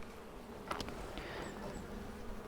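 Honey bees buzz around an open hive during a beekeeping inspection with a hive tool, a steady close drone with a few individual bees flying past.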